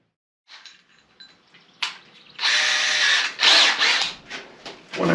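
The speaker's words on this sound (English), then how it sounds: "let's get this pocket screwed and fixed to the sole plate" A power drill drives pocket screws through construction lumber into a shed wall's sole plate, with a few faint clicks before two loud whirring bursts and a shorter final spin, close by with no talk.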